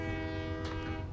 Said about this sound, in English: Oh, you got the horn as well.